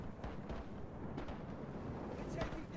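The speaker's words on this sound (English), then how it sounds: "Fire the cannon. Broadside. Open fire on that vessel." Cannon broadside fire in a pirate-themed real-time strategy game: a few dull booms rise out of a steady, rumbling wash of battle noise that runs throughout.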